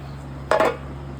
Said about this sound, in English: Move this little pan out.